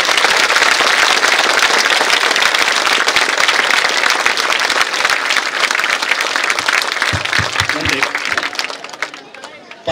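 An audience applauds a folk art troupe performing on the lives of palm climbers, loud dense clapping mixed with crowd noise that carries on for most of the span before thinning and fading near the end.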